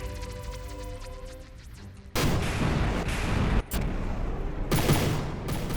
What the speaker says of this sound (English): Well, something exploded already.